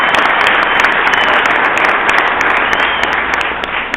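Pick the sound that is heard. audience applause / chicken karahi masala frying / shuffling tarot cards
audience applause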